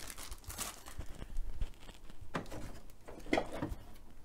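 Quiet crinkling and rustling of the plastic bag holding safety goggles packed with a Makita DCS551RMJ cordless metal-cutting circular saw, with irregular crackles and a few sharper bursts, fairly close, no voices.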